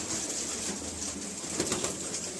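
Pigeons in a loft coo softly and continuously, with a brief flurry of wing flapping partway through, heard close by against a faint background hiss.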